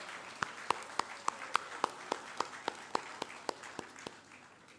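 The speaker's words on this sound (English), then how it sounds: "Can we all give Sir a big round of applause?" An audience applauds a guest at a 25th anniversary felicitation at North Liberty Higher Secondary School, sounding as a fairly quiet, evenly spaced run of sharp claps that fades slightly toward the end.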